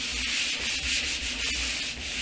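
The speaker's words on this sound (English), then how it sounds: "I am sanding it in the one direction" Hand sanding with 150 grit sandpaper, strokes in one direction to scuff a front top before epoxy primer; steady close rasping scratches repeating in quick rhythmic passes, no voices.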